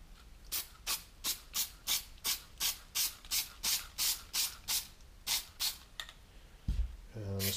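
Spray glue spritzed from a can in about a dozen short, evenly spaced hissing bursts, close up, followed by a brief low thump and a tonal sound at the end.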